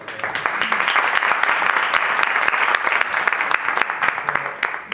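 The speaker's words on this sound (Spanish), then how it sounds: "Un aplauso para ellas." A small audience applauds after two guests finish speaking at a talk on emotions, with distinct individual claps sharp and close, steady for several seconds.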